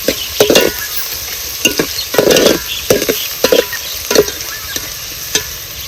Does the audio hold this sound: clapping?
no